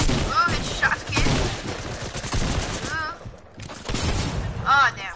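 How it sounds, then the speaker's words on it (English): Shotgun blasts and other gunfire in the video game Fortnite crack repeatedly across a few seconds of busy game audio, with voices talking throughout. "Oh, it's shotgun."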